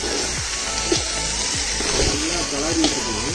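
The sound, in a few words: cut goat lung meat sizzling as it goes into the pan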